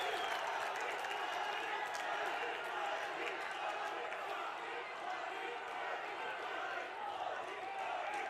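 Loud, sustained applause and cheering from a large crowd at a public event in Dehradun honouring Prime Minister Modi, a steady dense roar that holds throughout without pause.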